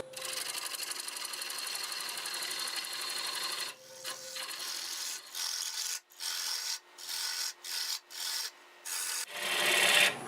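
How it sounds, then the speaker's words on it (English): Half-inch bowl gouge cutting a plum wood cocktail glass on a lathe, a steady scraping hiss of tool on spinning wood that breaks into short repeated cuts with pauses near the end, close and fairly loud. "now I've switched to my 1/2 inch bowl gouge. I'll do a little more shaping there"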